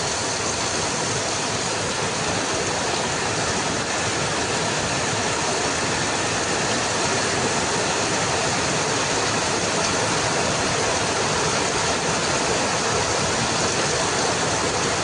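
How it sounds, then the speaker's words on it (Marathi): Heavy monsoon downpour with flowing water from a nearby river, a dense, constant roar of broadband noise that stays loud and unchanging throughout, with no voices. "पाऊस भयानक लागतोय."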